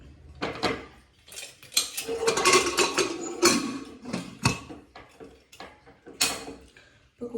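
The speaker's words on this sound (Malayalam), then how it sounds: "കുക്കർ എടുത്ത് നമുക്ക് വെള്ളം ചൂടാക്കാൻ വയ്ക്കാം" A pressure cooker is handled and set on to heat water for Kerala puttu, with close metallic clanks, knocks and lid rattles in an irregular series, loud and alone.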